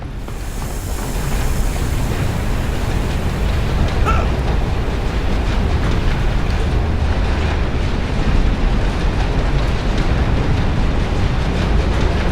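A train in the video game Marlow Briggs gives off a loud, steady rolling rumble with a dense, roaring low end, continuous and unbroken for the whole stretch.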